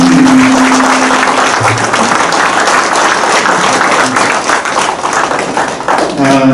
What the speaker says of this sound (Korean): 박수 한번 해주시면